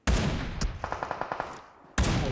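Gunfire in a video game: a loud blast, then a rapid burst of about nine evenly spaced shots, and another heavy blast at the end, close and with no voices.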